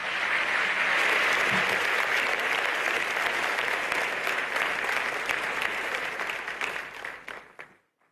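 An audience at a formal ceremony applauds the Prime Minister, loud dense clapping that holds steady for about seven seconds before quickly dying away.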